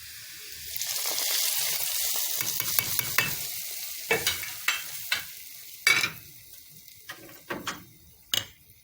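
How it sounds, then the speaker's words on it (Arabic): Crushed garlic and coriander sizzle in a small spoonful of ghee, a loud frying hiss that fades as a spoon stirs and scrapes the pan in a series of sharp clinks. "طشه يعني ايه كزبره مع الثوم مع معلقه سمنه صغيره"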